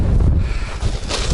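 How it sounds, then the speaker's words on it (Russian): Strong wind buffets the microphone outdoors during daytime burbot fishing with bottom lines, a loud, gusty low roar that surges and dips in uneven bursts, with no voices. "Ветрища страшная, ребята."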